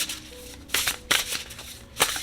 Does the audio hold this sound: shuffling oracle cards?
yes